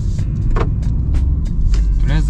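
A BMW 218i Active Tourer Exclusive with a 1.5L three-cylinder turbo drives on a winding mountain road, a steady low engine and road rumble heard from inside the cabin, with a few brief clicks and rustles.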